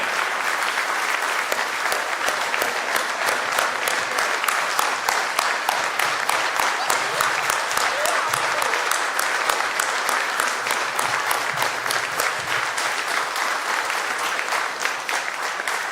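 An audience at a satsang and knowledge camp gives the children of Prerna Bal Sabha Dombivli a long, steady round of applause, dense clapping holding at an even loudness from start to finish.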